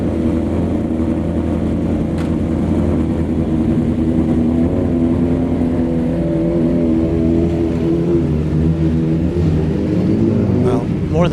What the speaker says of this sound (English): We had a whole motorcycle club out here, apparently.